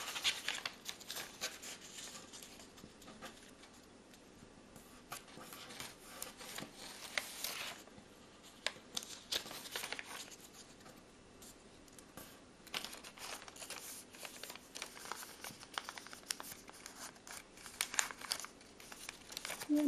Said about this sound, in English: Now you're bringing these corners into the middle and you're folding this corner over.